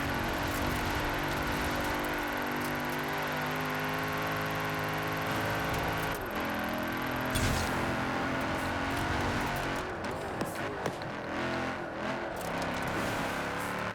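A Mercedes-AMG with a V8 engine, wide body and wide tyres driving in Forza Horizon 4, its engine giving a steady, dense roar that holds throughout, with shifting tone and small bursts near the end, and no talk.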